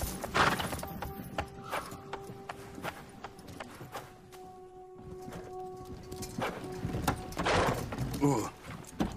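Horse hooves clip-clop into a barn in the video game Fable: The Journey, with irregular clops under music and game sounds while voices talk over parts of it.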